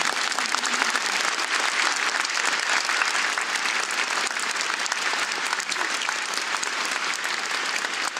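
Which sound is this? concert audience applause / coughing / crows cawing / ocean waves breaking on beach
concert audience applause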